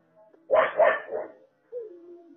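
A dog gives two or three short yelping whimpers close by, followed after a pause by a thin, falling whine, all fairly quiet in a still room.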